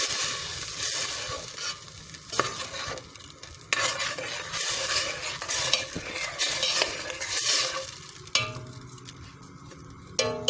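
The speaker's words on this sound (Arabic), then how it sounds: "وهنقلب بقى كده." Gizzards frying in a pan with a stock cube, stirred with a utensil: steady sizzle under repeated scraping strokes and clinks against the pan, close and fairly loud throughout, with no talking.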